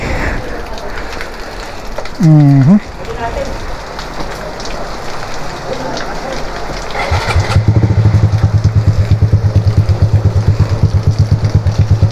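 Steady rain patters on a surface in Infanta, Quezon, while a motorcycle engine idles and then revs into a loud, rapid putter for the last few seconds.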